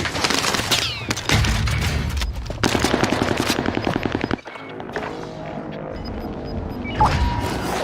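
Gunfire in a battle royale video game: rapid bursts of automatic fire and single shots, loud and close, with a pause and then quieter game sounds and distant shots.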